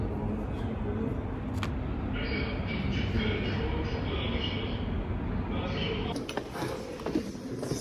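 RER commuter train in Paris, a continuous rumbling ride with rattling carriage noise and occasional clacks and squeals, heard from inside with background chatter.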